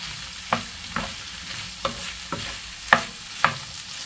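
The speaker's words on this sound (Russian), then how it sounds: "Теперь добавляем сюда сердечки. Снова перемешиваем. И обжариваем минут 10." Chicken hearts fry in a pan while being stirred, a steady quiet sizzle broken by six sharp scraping clinks of the utensil against the pan at a roughly even pace, with no voices.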